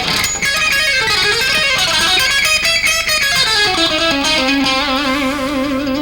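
A distorted electric guitar plays a fast, winding harmonic minor lick with string skipping, notes leaping up and down continuously under heavy effects, loud and dense.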